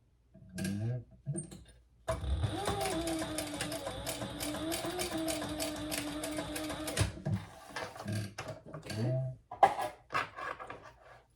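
Sewing machine stitching rows on a City Messenger Bag, a steady motor hum and rapid needle chatter for about five seconds, followed by fabric handling and a voice.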